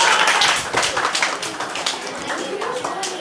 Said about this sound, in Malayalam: എല്ലാവർക്കും ഒരു കയ്യടി കൊടുക്കട്ടെ പിള്ളേർക്ക്